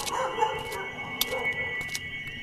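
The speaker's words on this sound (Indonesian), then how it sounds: "Melolong, menggonggong sangat keras" A dog barks and howls loudly in a radio drama sound effect, with repeated yelps and drawn-out wails set against a steady background hum.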